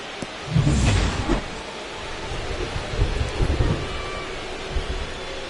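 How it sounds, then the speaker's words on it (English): Heavy rain pouring down with low rumbles of thunder in the baseball video game MLB The Show 25, a dense steady wash of rainfall with a louder thunder roll near the start and softer rumbles later. "This rain is not letting up."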